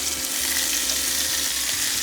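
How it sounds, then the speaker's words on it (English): Steady, loud sizzling of chicken legs searing skin side down in hot oil, a continuous crackling hiss with no talking. "Let's hear it sizzle."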